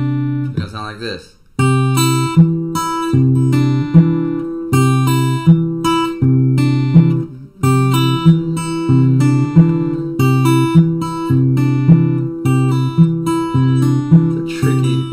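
An acoustic guitar plays a Travis-picked intro riff, a loud, close alternating thumb bass under plucked treble notes in a steady rhythm, with a brief pause partway through.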